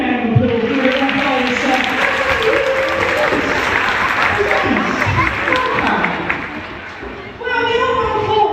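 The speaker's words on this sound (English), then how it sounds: "Give them a big round of applause." Audience at a sea lion show clapping and cheering loudly throughout, with children's voices mixed into the crowd noise and a brief dip before the applause swells again.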